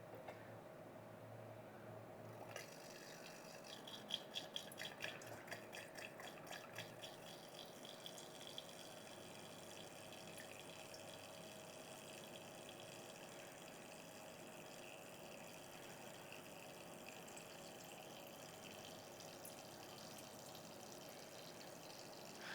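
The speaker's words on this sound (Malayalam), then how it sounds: "ഞാൻ ഇവിടുന്ന് തന്നെ വെള്ളം ഒഴിച്ച് തുടങ്ങാം" Water is poured into a pet water fountain while its small motor hums steadily, giving a gentle trickle and splash over a constant low drone, faint and close.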